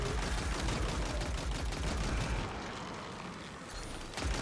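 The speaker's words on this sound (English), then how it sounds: "I'm going to go ahead and pull my machine gun out here." Machine gun fire in Destiny 2 during a lost sector run, a dense, continuous burst of rapid shots that fills the first half and then thins into a rumbling tail before a fresh burst at the end.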